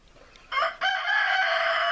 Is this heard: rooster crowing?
yes